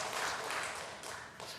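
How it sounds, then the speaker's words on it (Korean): A congregation claps together during a Wednesday evening church worship service, giving a dense, steady wash of applause that carries on without a break and stays at moderate loudness. "박수하겠습니다."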